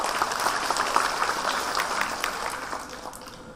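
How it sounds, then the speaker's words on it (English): A conference audience claps together in a short, steady burst of applause, moderately loud and evenly spread across the hall. "So I just want to ask you to give another round of applause to yourselves for contributing."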